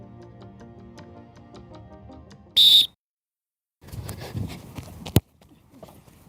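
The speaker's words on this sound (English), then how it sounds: "only when I blow the whistle" A single short, shrill whistle blast rings out after faint background sounds, followed by scuffling movement and a sharp thud.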